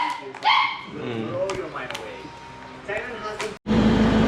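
A dog being delivered by pet transport in Isabela barks and whimpers close by, mixed with people talking, and ends in a sudden loud, noisy burst.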